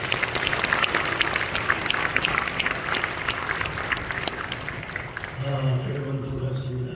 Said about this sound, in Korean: 이번 박수로 모시겠습니다